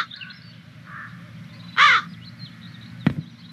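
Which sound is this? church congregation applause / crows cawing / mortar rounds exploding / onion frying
crows cawing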